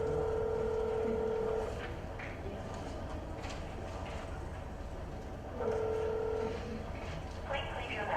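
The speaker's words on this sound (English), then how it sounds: "my phone rang" A phone rings twice with steady electronic tones, each burst lasting about a second and a half, over a constant low rumble like a moving train or vehicle.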